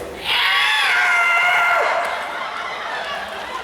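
A man lets out one long, high strained scream that slowly trails off, imitating a terrified Uncharted 2 death cry, close up and alone.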